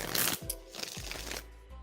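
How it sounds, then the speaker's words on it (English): Tarot cards shuffled quickly by hand, a few riffling bursts close up with no talking. "we're going to shuffle really quickly for Outspoken Introvert's question"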